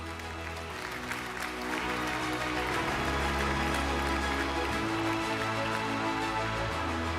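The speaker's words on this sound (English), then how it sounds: "Give us a big round of applause." An awards gala audience claps steadily in a sustained round of applause, dense and even throughout.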